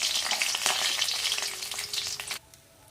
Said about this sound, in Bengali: এখানে যে মাছের মাথাগুলো ভেজে নিচ্ছি, গতকালকের মাছের মাথাগুলো ছিল, এটা দিয়ে মুড়ি ঘন্ট বানাবো।